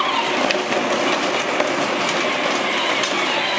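A child's toy tractor drives slowly through cold snow in low gear, giving off a steady close motor whir with faint rhythmic clicking and no pauses.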